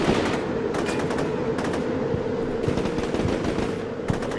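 Rapid bursts of automatic rifle and machine-gun fire crackle in a firefight in the tactical war game Combat Mission Shock Force 2, with Canadian troops assaulting an insurgent base, overlapping loud shots over a dense continuous backdrop.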